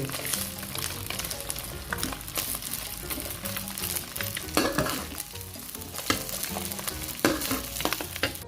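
Garlic fried rice with pork sizzles steadily in a hot pan while a utensil stirs and scrapes through it, giving continuous frying crackle with occasional louder clanks, close up and without talk.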